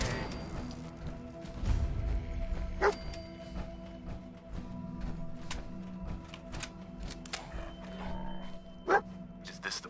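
The companion dog in the video game Fallout 4 gives a few faint barks and yips under game clatter and footsteps, with a voice speaking nearby.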